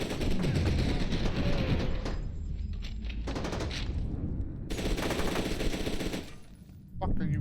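Rapid gunfire bursts in the shooter game F.E.A.R. 2: Project Origin, loud near automatic fire rattling in long stretches with brief pauses, ending in a short break before another burst, with some voices mixed in.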